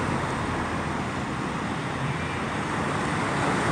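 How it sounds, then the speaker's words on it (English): Steady street traffic in Mexico City, a continuous broadband roar of passing vehicles that stays loud and even throughout with no pauses or voices. "You get to hear traffic all day long on both sides."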